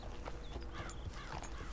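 Horse hooves clip-clop at a steady walking pace in Red Dead Redemption 2, mixed into a dense game soundscape with ambient noise and faint background sounds throughout.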